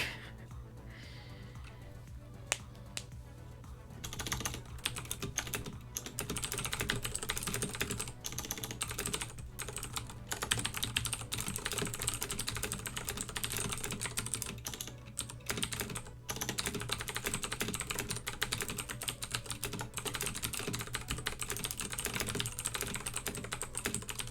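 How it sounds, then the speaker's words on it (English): Clicky computer keyboard typing goes on steadily for a long stretch, dense bursts of keystrokes with short pauses, close and fairly quiet, no voices. "The clicky clackies are soothing."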